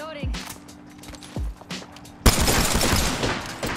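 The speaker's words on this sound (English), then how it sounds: "I got a prowler shooting me in the back." Prowler submachine gun fire in Apex Legends, bursts of rapid shots coming from behind the player, loud and dense in the second half, with a player talking over the earlier part.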